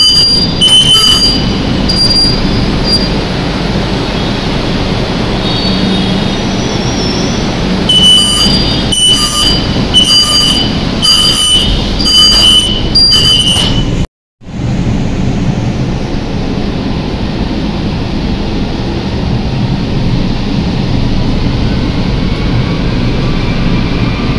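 Kolkata Orange Line metro train running between Beleghata and Kavi Subhash on a rainy day, a loud, constant rumble with high, piercing wheel squeal and repeated electronic beeps, then a brief cut to a steady rolling roar.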